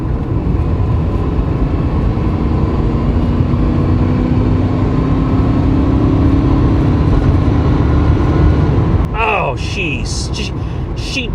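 A 1994 Chevy Caprice LS with a 4.3 liter V8 accelerates, giving a loud, continuous engine drone with a rising tone. It ends abruptly as a voice starts talking near the end.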